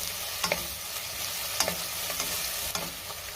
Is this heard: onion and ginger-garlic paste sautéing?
yes